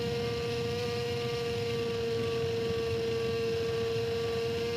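A motorcycle engine holds a high, steady whine at very high revs on the TT-Assen circuit, with a sustained strong tone over a constant roar at a fairly low level.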